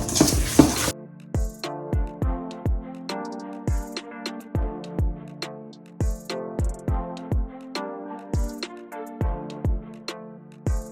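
A spoon mixes crushed red pepper into seasoning for Jamaican brown stew chicken, clinking against the bowl in regular, ringing strikes about twice a second, with faint scraping between them.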